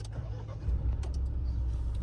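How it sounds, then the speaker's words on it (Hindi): Mahindra Scorpio S11 diesel engine cranks and catches with a brief jolt, then settles into a low, rumbling idle heard close up, with no speech. "सिर्फ जरा सा झटका लगता है और गाड़ी स्टार्ट हो जाती है।"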